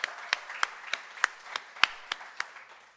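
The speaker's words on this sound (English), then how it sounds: "So a big round of applause." A keynote session audience gives a round of applause, heard as sparse, evenly spaced sharp claps of moderate loudness rather than a dense ovation, with no talking over them.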